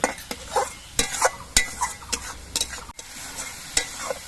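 Onion frying in a pan for a prawn curry, stirred with a utensil, giving a steady close sizzle broken by repeated sharp scraping and clinking strokes against the pan.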